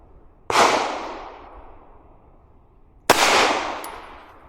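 Two loud, sharp shots from a CZ Shadow 2 pistol firing 115 grain reloads at a shooting range, spaced a few seconds apart, each with a decaying echo tail and no talking.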